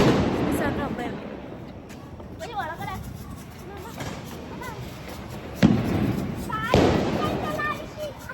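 Diwali firecrackers burst during festival celebrations at home, with a couple of sharp loud bangs standing out over a busy noisy background of steady crackle and chatter.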